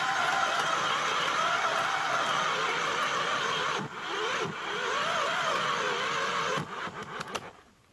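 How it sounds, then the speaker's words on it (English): A LandWorks battery-powered earth auger with a 6-inch bit runs steadily and loudly close by, a sustained motor whine with brief dips as it bites into ground, then falters and cuts out near the end. "That's a 6-inch auger."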